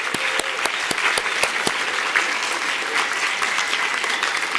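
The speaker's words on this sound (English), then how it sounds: "we need to give some applause to some people here" An audience at a science talk claps steadily, a dense, even wash of many hands at moderate distance that carries on for several seconds with no talk over it.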